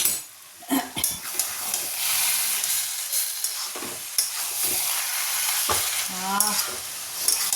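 Shahi garam masala is stirred and mixed in a hot pan of ghee, giving a close, continuous sizzle and hiss broken by scraping clatters of a utensil against the pan; no speech.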